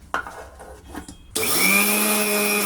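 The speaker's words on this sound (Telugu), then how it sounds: "ఇప్పుడు వీటిని మిక్సీకి పడదాం." A kitchen mixer grinder grinds one cup of sooji and two cups of oats into a fine powder for dosa batter. A few handling knocks come first, then the motor starts abruptly and runs loud and steady to the end.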